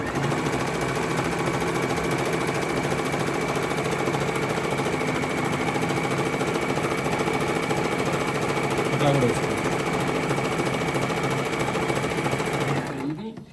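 An electric sewing machine stitches steadily at high speed, a continuous close whirring rattle that runs without a break for over twelve seconds before winding down abruptly at the end.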